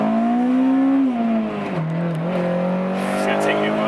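Twin-turbo Nissan 370Z engine held near redline, a loud sustained high rev tone that dips and recovers as revs shift, heard from close by.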